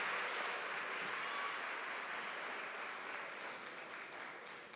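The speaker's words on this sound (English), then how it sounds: "Join us in a round of applause for all of the degree candidates" A large graduate commencement audience applauds the degree candidates from the Department of Early Childhood and Elementary Education, giving dense, steady clapping that fills the hall for about five seconds and fades slightly toward the end.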